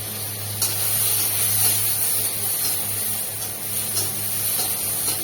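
Chopped onion and a small chopped tomato frying in a little oil, a steady close hiss and spatter that holds evenly throughout with no talk.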